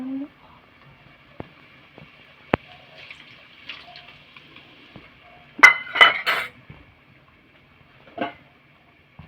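Mango pickle mixture with curry leaves being stirred in a pan, with scattered clinks and scrapes of a spoon against metal, a sharp single tap early and a denser cluster of clatter midway, otherwise quiet.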